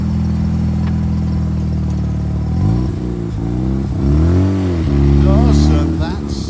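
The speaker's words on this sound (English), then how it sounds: "Listen to that rotary engine purr." A Mazda RX-7 rotary engine idles close by with a deep, lumpy burble, then rises and falls through a few gentle revs before settling back.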